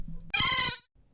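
A short, bright electronic cry of the Pokemon Mareep from a video game, a single buzzy bleating call with a pulsing rhythm, lasting about half a second.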